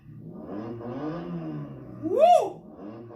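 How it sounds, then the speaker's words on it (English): An electric Porsche-style ride-on toy car plays its start-up sound, a tonal synthetic engine rev that sweeps up then peaks in a brief louder whine before settling, heard close and clear. "It has the same generic start as every other car, but a little bit louder"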